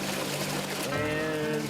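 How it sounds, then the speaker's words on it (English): Water rushing into a sinking car, a steady gushing and trickling wash that fills the clip, with a faint voice underneath. "the water rushes in."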